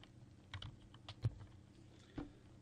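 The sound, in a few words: typing a username on a computer keyboard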